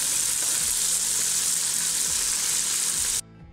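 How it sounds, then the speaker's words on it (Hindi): Onions fry in a pan for Afghani green chickpea pulao, a dense close sizzle running steadily before cutting off abruptly at the end. "अब इसके अंदर शामिल कर देंगे प्याज। ये आप देख सकते हैं। इसको अच्छी तरीके से हम गोल्डन करेंगे, गोल्डन ब्राउन करेंगे।"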